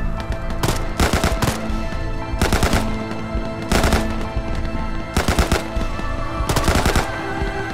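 Automatic gunfire in ArmA 3, fired into the dark: repeated loud bursts of machine-gun fire, several rounds per burst, recurring every second or so over a dense, sustained battle din with no talk.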